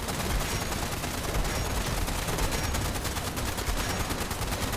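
Gunfire in the video game Fallout 76: dense, sustained rapid shooting that fills the whole stretch at a steady, loud level, with no talk over it.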